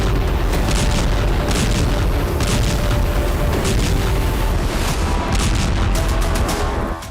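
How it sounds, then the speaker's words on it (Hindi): Dense, continuous rumbling booms and blasts of drone and Iskander-type missile strikes in Ukraine, with repeated sharp bursts rising over a loud, sustained roar. "यूक्रेन में ड्रोन और इस्कंदर जैसी मिसाइलों के धमाके हुए।"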